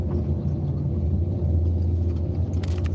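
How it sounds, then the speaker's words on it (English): A dump truck rumbles past on a road. The low engine drone stays steady and close the whole time, with a brief hiss near the end and no voices. "Look at this daggone dump truck."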